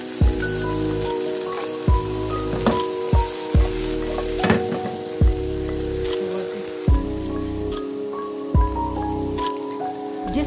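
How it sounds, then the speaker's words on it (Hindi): Vegetables with broccoli sizzle steadily in a pan that was just used to cook fish. The frying stays continuous and close, broken every second or two by short clanks of stirring, with no talking. "तो एक से डेढ़ मिनट के लिए बस सब्जी को करेंगे फ्राई"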